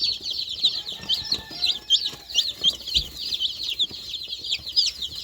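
Two-day-old baby chicks peep constantly in a dense, high-pitched chorus of rapid cheeps, close and busy, with occasional soft rustling and small bumps beneath.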